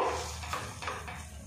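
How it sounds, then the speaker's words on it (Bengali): Soft scraping and sizzling as carrot paste is stirred around a hot pan in ghee, with faint spatula strokes across a short stretch. "গাজরটা কিছুক্ষণ নাড়াচাড়া করে ভাজা ভাজা করে নেব"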